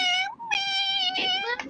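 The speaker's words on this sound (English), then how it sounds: "Oh my god, your cat." A pet cat lets out several long, loud, whiny meows close by, drawn-out and tonal, with a brief gap between calls and people talking around it.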